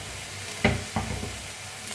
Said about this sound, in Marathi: आता मिक्स करून मटकीला भाजून घेऊया असं मिक्स करून भाजून घ्यायचं